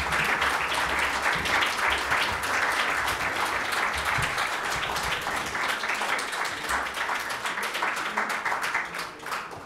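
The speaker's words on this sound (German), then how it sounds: "Sie haben am Applaus gesehen" Sustained audience applause after a constitutional law lecture, dense and steady clapping at fairly close range that slowly tapers toward the end.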